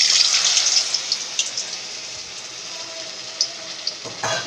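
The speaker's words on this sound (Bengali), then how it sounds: "এবার দেখো তেলটা গরম হয়ে গেছে, আমি এবার এটা এই কর্নফ্লাওয়ারের মধ্যে ডুবিয়ে এইটাকে ভাজবো।" Cornflour-coated pieces fry in hot oil, a steady bright sizzling hiss that fades slightly, with a few soft pops and crackles near the end.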